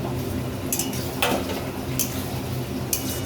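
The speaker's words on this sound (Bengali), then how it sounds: "আবার একটু ঢাকাটা খুলে আবার একটু নেড়ে দিই," A pot lid comes off and a vegetable curry of ridge gourd, eggplant and beans is stirred, with several sharp metallic clinks and scrapes over a soft, steady background.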